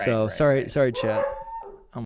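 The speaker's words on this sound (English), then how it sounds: "There's a dog in my yard" Dogs bark at an intruder dog in the yard: four or five quick, loud, close barks in a row, then a thin whine. A person talks over the barking.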